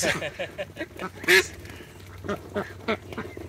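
Hungry ducks quack in a burst of loud, nasal calls, with one louder squawk near the middle, close by and mixed with other birds and some nearby chatter.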